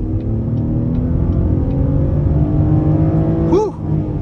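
A 2022 GMC Canyon Denali pickup accelerating hard from inside the cab, a loud continuous engine drone rising steadily in pitch with a brief shift near the end.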